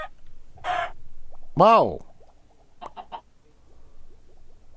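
Minecraft chicken clucking in the video game, a few short bursts between quiet gaps, with a person speaking briefly nearby.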